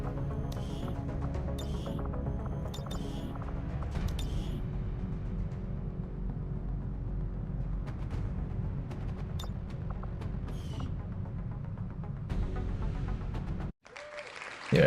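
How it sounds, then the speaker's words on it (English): A crowd cheers and applauds steadily in the XCOM 2 video game, a dense continuous roar that holds at the same level for about fourteen seconds, then cuts off abruptly before a short burst at the end. "I know you guys wanted to hear the cheering noises"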